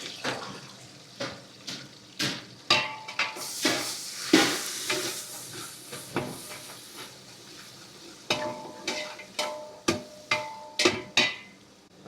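Half a kilogram of onions sizzles in hot oil in a pot for hotel-style tomato bath, with repeated sharp spatula scrapes and stirring clatter punctuating a steady background hiss.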